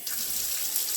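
Water poured into a cooking pot of BBQ sauce and potatoes on a home stove, a steady close hiss of running liquid lasting the whole moment without pause.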